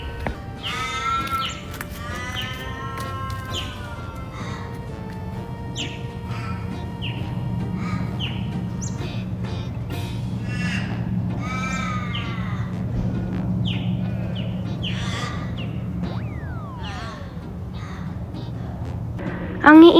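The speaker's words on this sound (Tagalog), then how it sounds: "Ang iingay ng mga uwak dito" Crows caw repeatedly in harsh, overlapping calls from several birds outdoors, close and loud, against a constant low hum of background noise, with a few other chirps mixed in.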